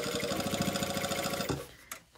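A sewing machine stitches a coat seam at a slow pace, with a rapid, even mechanical clatter of needle strokes for about a second and a half. It then stops with a click, followed by a faint handling sound nearby.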